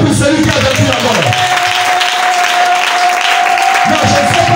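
A church congregation applauds and cheers for Jesus during a sermon, with loud clapping and crowd noise that swell at first, then settle into a steady roar beneath a sustained tone.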